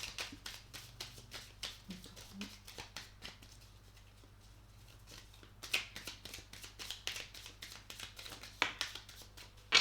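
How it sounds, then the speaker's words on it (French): Oracle cards riffled and shuffled in hand, a steady run of quick crisp flicks and light pats, quiet and close, with brief slaps as cards are laid down. "Je vais mettre quelques cartes."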